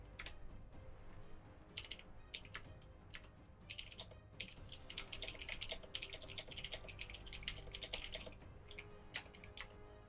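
Rapid computer keyboard typing and key presses during a Battlefleet Gothic Armada 2 multiplayer match, clicking in dense bursts and pauses against a steady low background hum.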